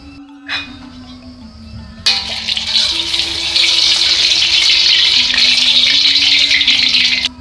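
Cooking oil poured into a heated frying pan for frying Balinese spice paste, a sudden loud sizzling hiss that holds steady and close after a brief clatter, with a faint tonal hum underneath.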